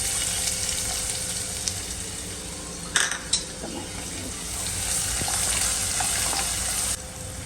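Asafoetida, garlic and onion hit hot oil already holding mustard and cumin seeds, giving a steady close sizzling hiss, broken by a couple of sharp clinks of utensil on pan.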